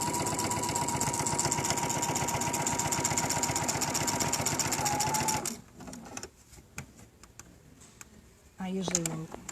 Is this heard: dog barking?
no